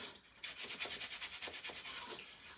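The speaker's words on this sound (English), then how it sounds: "I'm going to sand the middle if I can, just to smooth out my paint" Very fine sandpaper rubbing back and forth over painted craft work, a steady run of quick, evenly spaced scratchy strokes, close and moderately loud with no talking.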